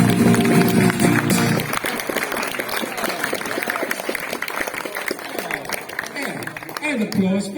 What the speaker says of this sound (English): And applause for you as well